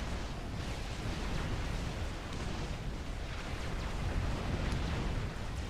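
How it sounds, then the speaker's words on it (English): Bombing run in Forged Alliance, a real-time strategy game: a continuous roar of overlapping explosions rumbles at steady loudness throughout, with no separate blasts standing out. "Nice bombing run as well."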